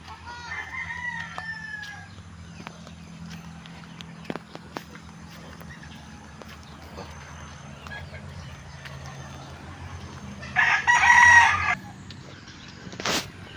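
A rooster crows in the distance in the rural countryside after overnight rain, a short call early on and a louder one later, over a quiet outdoor background with scattered clicks.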